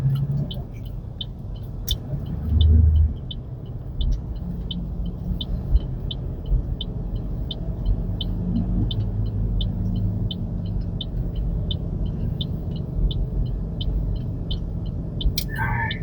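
Cars pass on Ward Avenue in Honolulu, heard from inside a waiting rideshare vehicle: a continuous low traffic rumble with swells as vehicles go by, plus a steady rhythmic ticking throughout.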